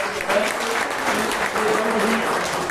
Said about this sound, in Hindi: लेकिन एक बार जोरदार तालियां इनके लिए